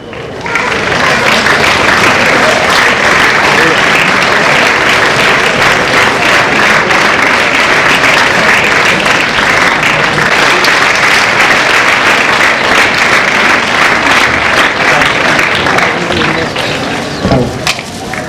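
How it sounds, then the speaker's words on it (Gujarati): Sustained, dense applause from an audience at a high school inauguration ceremony, loud and steady throughout, dropping off near the end. "તાળીઓ બહુ ઓછી પડે છે."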